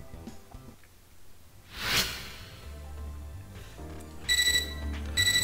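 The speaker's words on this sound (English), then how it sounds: "Yay, more beeping." Electronic beeps and chiming from a terminal in the game Fate/EXTRA ring out in two short bursts near the end, following a quick whoosh and a low background hum.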